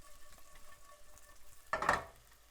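Quinoa toasts in hot oil in a pan with a soft, steady sizzle, then a brief louder stirring scrape near the end, close and fairly quiet with no talk.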